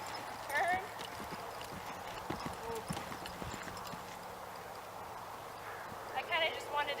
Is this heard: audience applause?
no